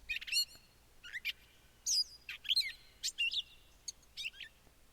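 Recorded robin-like bird song plays in short, clear warbled phrases with brief gaps between them, fairly crisp and alone over a quiet background.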